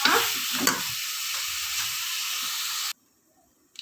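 Tikka meat fries in a pan while a spoon stirs it, giving a steady loud sizzle with scraping that cuts off abruptly near the end.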